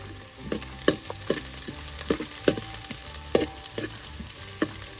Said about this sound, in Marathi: आणि या कांद्यामध्ये आपण जिरा हा प्रकार सोडणार आहोत